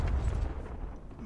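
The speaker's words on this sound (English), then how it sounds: "Friendly predator missile inbound." Predator missile strike detonating in a Call of Duty Mobile Hardpoint match, a heavy low rumbling blast that sustains and slowly fades over a second or so.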